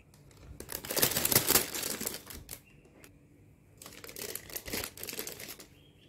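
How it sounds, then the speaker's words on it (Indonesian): Hot cendol dough being spooned into triangular plastic bags produces close, crisp plastic crinkling and rustling in two long bursts separated by a brief quieter pause. "Selagi adonan panas, masukkan ke dalam plastik segitiga."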